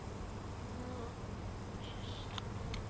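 Honeybees buzzing over a hive frame during a beekeeping inspection: a dense, continuous hum of many bees, steady and fairly close, with no talking.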